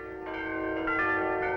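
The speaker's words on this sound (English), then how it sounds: "Listen, girls, the bells, the bells." Bells ring from a castle in a classic Woody Woodpecker cartoon, a sustained, resonant peal heard at moderate volume with no one speaking.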